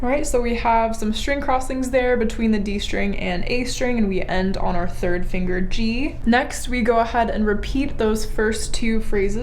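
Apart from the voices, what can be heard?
No distinct noise like a dog, phone or traffic.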